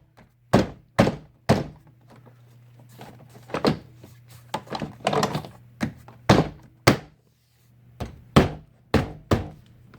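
A rear door panel on a BMW 328 3 series is hit into place with a string of loud, sharp thunks, irregularly spaced and close up.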